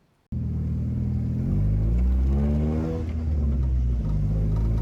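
A Mazda Miata with a newly repaired clutch master and slave cylinder starting off on a test drive: deep engine rumble rising as it accelerates through revs, close and steady, with no talk.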